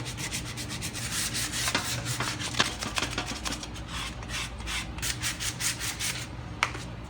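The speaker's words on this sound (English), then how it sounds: "You're just basically going to scuff it up so that the paint sticks." A radiator is scuffed by hand with 180 grit sandpaper to prepare it for high heat paint, giving steady close rasping strokes with occasional sharper scrapes throughout.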